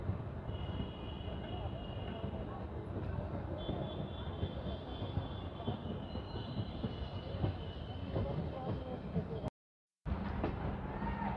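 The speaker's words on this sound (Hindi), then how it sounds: "ये जो ट्रेन है वो आई थी इस वाले ट्रैक से बाई तरफ से और अब यहाँ से मुड़ जाएगी" A passenger train on the Lalkuan to Puranpur line swings off onto the Pilibhit track at a curve, a continuous close rumble of wheels and carriages with faint high wheel squeal, and a brief dropout near the end.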